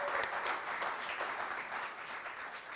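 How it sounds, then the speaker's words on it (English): A crowd applauds steadily, many hands clapping together in a dense, even wash of sound for a few seconds. "can we get another round of applause for Rikki and all the coordination that she"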